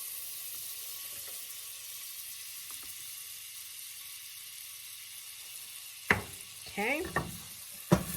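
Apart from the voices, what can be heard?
butter sizzling in a hot pan for grilled cheese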